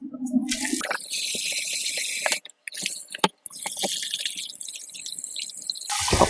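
Water splashes and drips as grated potato is rinsed of its starch in a kitchen, close and continuous, with a couple of short pauses and a louder trickle at the end.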